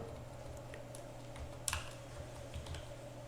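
Fairly quiet typing on a computer keyboard, with scattered key clicks and one slightly louder tap near the middle, heard alone against a low steady background hum while writing jQuery script.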